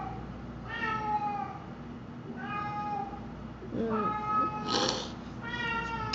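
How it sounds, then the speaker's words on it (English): A needy cat yowls and meows indoors in several drawn-out, wavering calls spaced a second or so apart, fairly close, with a faint voice partly under them. "my cat has been like freaking out and being really needy, and she just yowls and stuff"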